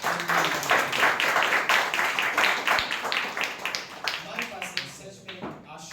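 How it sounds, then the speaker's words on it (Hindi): A church audience claps for the worship team, dense steady applause close and loud, thinning into scattered individual claps toward the end. "वर्शिप टीम के लिए भी तालियां बजाएं"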